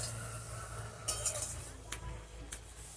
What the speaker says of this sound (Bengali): বন্ধুরা, আমি এবার চাপাটা খুলে দিচ্ছি।